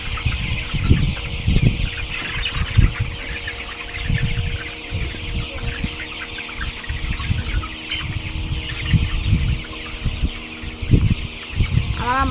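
Many chickens cluck continuously on a poultry farm, a dense, close chorus of overlapping clucks and murmurs with wind noise throughout.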